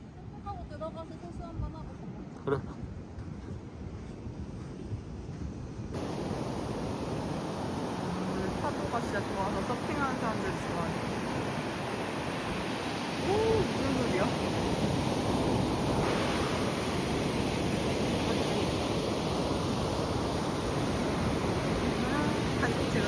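Ocean waves washing onto the beach at Sokcho, a steady broadband surf roar with wind buffeting the microphone, growing louder and fuller after the first few seconds and continuing without pause.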